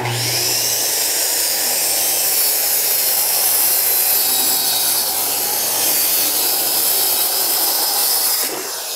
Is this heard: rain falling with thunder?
no